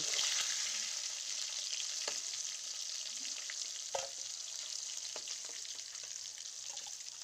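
Fish fries in hot oil in a home kitchen, a steady, loud hiss and sizzle throughout with occasional soft pops and taps, no voices.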